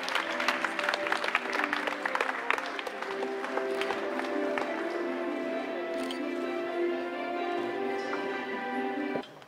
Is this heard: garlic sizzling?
no